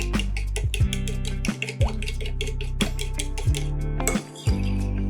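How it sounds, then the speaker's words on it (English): A fork beating egg yolks in a bowl while making a holiday rum raisin bread pudding custard, with quick repeated clinks of metal against the bowl in a steady rhythm, close and clear. "And what I'm actually doing is breaking up the egg yolks."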